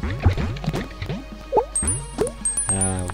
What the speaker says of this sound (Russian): Пошла вода.